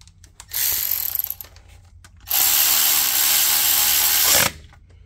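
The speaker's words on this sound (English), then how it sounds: "We can install this bolt here." A power tool drives a bolt on the front timing cover of a Mercedes S550 W222 M278 engine. It makes two loud whirring runs, a shorter one and then a longer steady burst, each ending abruptly.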